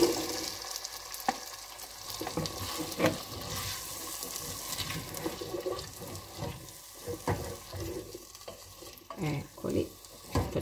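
Chickpeas tumble into a small frying soffritto for a cavolo nero and chickpea soup, giving a wet sizzle with stirring and splashy bursts near the end, close and without talk.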